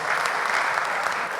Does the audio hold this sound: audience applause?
yes